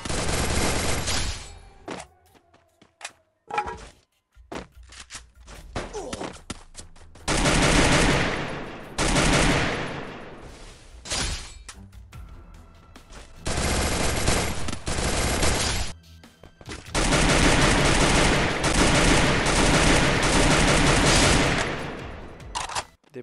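Free Fire gunshots: loud bursts of automatic fire in several long volleys separated by brief quiet gaps and scattered single shots, close and harsh.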